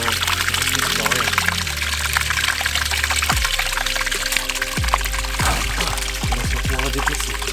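Water pours and splashes loudly out of a tank during outdoor work on a terrace, with people talking over the running flow.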